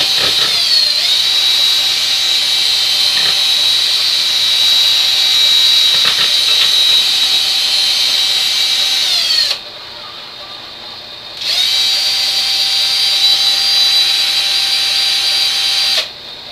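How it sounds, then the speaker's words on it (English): A power screwdriver whines loudly and continuously during granite countertop work, dropping out briefly for a couple of seconds before starting up again and running on steadily. "That was my screwdriver, just so you know."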